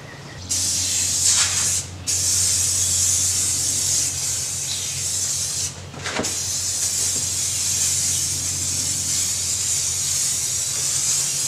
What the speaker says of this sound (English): why I used a spray can for this and not professional automotive contact cement in a spray gun